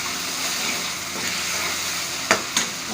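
Chana masala seasoned with salt and red chilli being stirred in a frying pan, a steady sizzling hiss broken near the end by two sharp knocks of the spoon against the pan.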